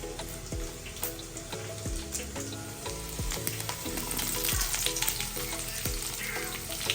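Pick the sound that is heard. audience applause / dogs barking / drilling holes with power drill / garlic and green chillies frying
garlic and green chillies frying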